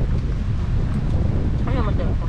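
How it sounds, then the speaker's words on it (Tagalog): Strong wind gusts across an island shore, hitting the microphone as a steady, loud roar, with a faint voice near the end. "Napakasarap ng hangin dito mga master."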